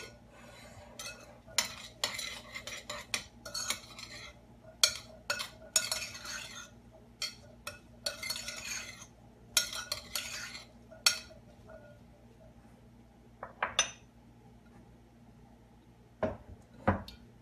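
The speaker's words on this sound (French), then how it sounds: "On mélange le tout." A chickpea mixture with salt is stirred in a bowl, giving irregular bursts of scraping and clinking utensil sounds close up, separated by short pauses, then a few final taps near the end.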